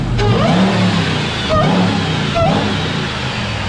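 A supercharged Ram TRX pickup fitted with a CPS cold air intake revs hard, rising and falling, its throaty engine roar carrying a whine over a few short bursts, loud and close.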